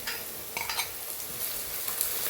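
Onions and green chilies fry in hot oil for a gongura chicken curry, giving a steady bright sizzle, with a few scraping stirs of a utensil against the pan early on and no voices.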